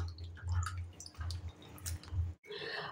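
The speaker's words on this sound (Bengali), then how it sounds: "এবার কাটার পরেও আমি ধুয়ে নিচ্ছি সুন্দর করে" Cut potatoes are swished and rinsed in a bowl of water, giving a run of close splashing and dripping bursts with a short pause near the end, and no one speaking.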